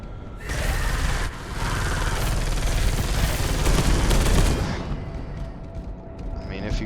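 Turret gunfire in the video game Space Hulk Deathwing: a loud, dense, continuous barrage of rapid shots and booms that fills most of the stretch, then eases into a quieter rumble near the end.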